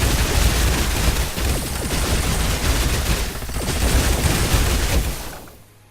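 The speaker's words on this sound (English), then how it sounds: "Open fire." Squad gunfire in the video game Age of Wonders: Planetfall, a loud dense fusillade of rapid overlapping shots and booms sustained for several seconds before cutting off abruptly.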